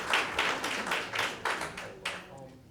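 An audience at a planning board meeting gives a short burst of applause, about seven or eight loose claps close together, fading out after a couple of seconds.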